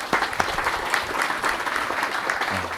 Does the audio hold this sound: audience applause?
yes